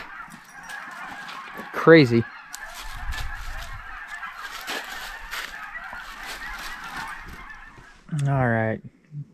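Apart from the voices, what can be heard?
flock of geese honking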